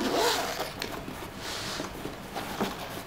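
A DLX Luxe OLED paintball gun's zipper case is unzipped, giving a close, continuous raspy scraping that runs for about three seconds with a few brighter pulls, no speech over it.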